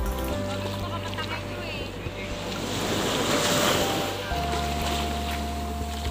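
Strong ocean waves breaking on a beach in Thailand during overnight camping, a rolling surf wash that swells midway, with wind buffeting the microphone and a low droning hum underneath.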